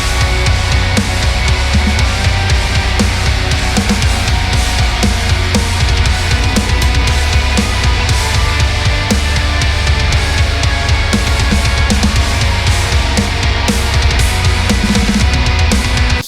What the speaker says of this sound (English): the next riff is a section from our song titled Hypnos.